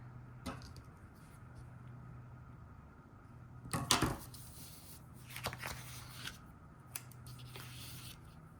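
Scissors cutting paper while making a planner, a few crisp snips and longer slicing strokes, close up over a steady low hum, with no speech.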